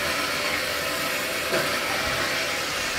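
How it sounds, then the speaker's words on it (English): A metal band saw cuts through 12mm by 50mm (half-inch by 2-inch) steel bar, giving a steady, loud, broadband grinding whir that holds constant throughout with no talk. "If you listen to the sound of the saw, you'll hear this chunk every time it goes around once."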